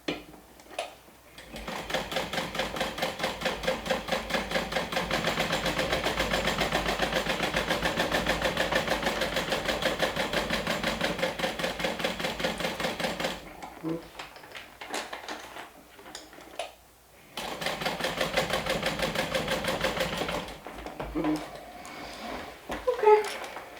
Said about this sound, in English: I'll do one more line of stitching, 1/8 of an inch away from the one that I just did.